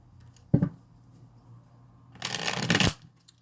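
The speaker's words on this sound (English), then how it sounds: "This deck shuffles so nicely." A deck of tarot cards being shuffled up close: a quick riffle snap, a pause, then a longer rapid riffle that ends with a soft tap.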